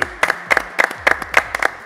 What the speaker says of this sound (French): rien que pour ça, on peut l'applaudir